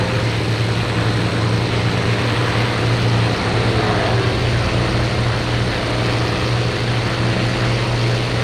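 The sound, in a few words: propeller fighter plane engine in a flight video game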